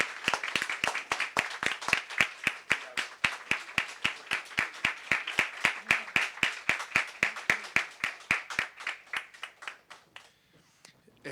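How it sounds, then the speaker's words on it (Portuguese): A ceremony audience at a portrait unveiling claps in a fairly unified rhythm, sharp regular hand claps that stay steady, then thin out and fade near the end. "E merece também uma salva de palmas de todos nós."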